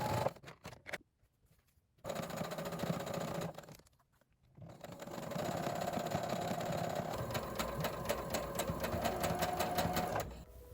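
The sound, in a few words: sewing machine stitching thin stretchy blouse fabric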